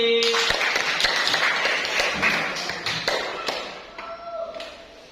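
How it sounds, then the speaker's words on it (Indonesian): A classroom of students claps their hands together in a loud, dense burst of sharp claps that thins out toward the end, with a brief voice near the close. "Oke, tepuk tangan kembali."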